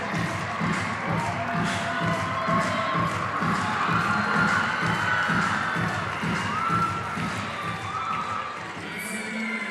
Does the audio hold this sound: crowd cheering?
yes